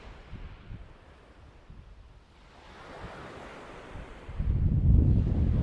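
Strong wind buffets the microphone over rolling surf, building to a loud, rumbling gust near the end.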